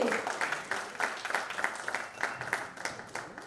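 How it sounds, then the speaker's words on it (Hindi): An audience applauds Anupam at the Non Stop Dhamaal trailer launch event. Steady clapping from the crowd rolls on throughout with a scattered, rippling rhythm, and faint voices sit beneath it. "जोरदार ताली हो जाएगी अनुपम जी के लिए।"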